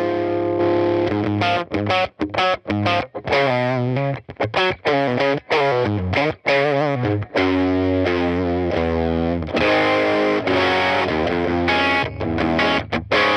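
An electric guitar runs through a UAFX compressor pedal set for heavy compression, playing dense, sustained chords and riffs with brief gaps, loud and evenly squashed, with no talking.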